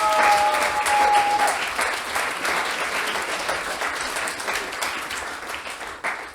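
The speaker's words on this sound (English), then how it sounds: "That's an applause." A crowd's applause played as a sound effect, dense clapping that starts loud and slowly tapers over several seconds.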